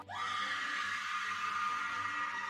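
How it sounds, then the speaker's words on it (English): A woman's high, drawn-out ghostly scream, the cry of a lady in white, rises at once and holds steadily for a couple of seconds, loud and alone with no talk. "Every so often, you can hear her scream."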